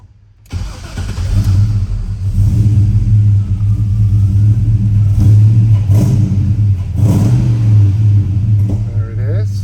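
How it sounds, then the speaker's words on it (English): A 1981 Chevy K20 Stepside pickup with a lifted body and suspension fires up after a brief crank and settles into a loud, steady, deep rumbling idle that runs on alone, with a faint blip near the end. "we'll fire this one up"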